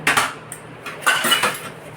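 Utensils and dishes clatter as a maid washes them, with several short metallic clinks and knocks in an irregular rhythm, near and moderately loud over a low steady hum.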